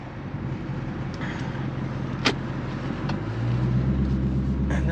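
A Dodge Challenger backing out and then driving off, a steady close engine rumble that deepens and strengthens partway through as it pulls away, with a couple of brief clicks and no talk.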